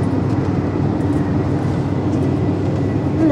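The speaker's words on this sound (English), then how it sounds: "Wow, this is our other train." A loud, steady rumble of the Amtrak California Zephyr passenger train passing near Red Canyon, continuous low roar and rattle with no talking, sustained throughout.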